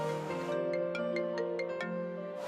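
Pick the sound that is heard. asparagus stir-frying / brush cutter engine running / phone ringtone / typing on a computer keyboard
phone ringtone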